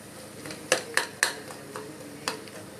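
Tomatoes and onions are stirred in a pan, with a handful of sharp spoon clinks against the metal, four quick strikes and then one more, over a faint background hum and no speech.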